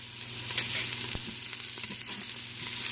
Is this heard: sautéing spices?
yes